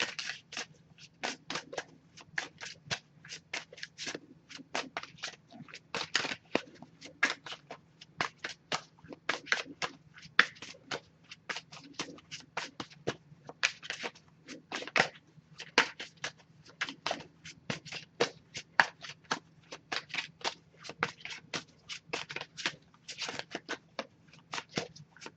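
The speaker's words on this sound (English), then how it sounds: "Just going to pull a single card from this deck here." An oracle card deck is shuffled by hand in a long run of quick, crisp riffling and slapping card sounds, close and fairly quiet, with no talking.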